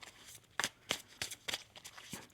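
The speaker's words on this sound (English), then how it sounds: "One more shuffle." Tarot cards being shuffled in a deck, giving a handful of crisp riffling bursts at an uneven pace, fairly close and quiet, with no talking.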